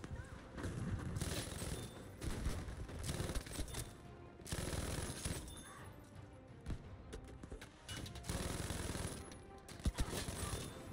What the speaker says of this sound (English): I'm using MMG and killing everyone easy